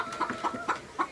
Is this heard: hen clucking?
yes